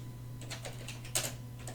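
Quiet typing on a computer keyboard, a short burst of light, uneven key clicks over a faint background hum.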